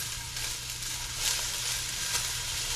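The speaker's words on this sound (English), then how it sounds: "let those onions go for a couple of minutes and let them get nice and softened" Onions soften in a pot for curried pumpkin soup, giving a steady, moderately faint sizzle with a low hum beneath and no voices.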